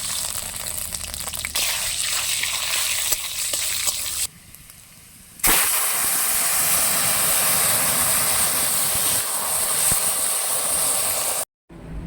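Dried chilli, radhuni seeds and crushed garlic cloves sizzle in hot oil, a loud steady hiss that cuts out briefly, then bursts back as the garlic goes in and fries on evenly.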